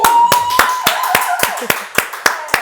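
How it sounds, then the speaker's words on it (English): Crisp, evenly spaced hand claps in a talk-show studio, about ten sharp strikes in a steady rhythm, close and distinct, with a faint voice or tone lingering underneath. "So we're gonna clap it up for that really quick."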